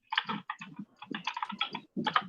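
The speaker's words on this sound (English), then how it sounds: "I'm typing away" Fingers tap on a computer keyboard in quick bursts of close, crisp clicks. Short pauses split the runs of keystrokes, and no one speaks.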